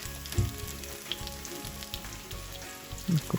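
Curry leaves sizzle in hot oil for kadala curry. A continuous close frying hiss is broken by a few louder spitting pops near the start and end, with no talking.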